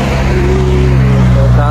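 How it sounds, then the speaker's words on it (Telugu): Cars travel along a mountain road in Montenegro, with a steady, close engine hum and tire noise running throughout without a break. "కార్లు వస్తున్నాయి,"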